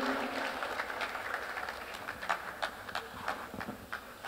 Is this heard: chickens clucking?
no